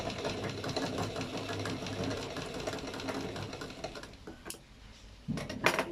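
A sewing machine stitches fabric in a tailoring class, a close, rapid rhythmic clatter that runs for about four seconds before stopping, followed by a few faint handling knocks.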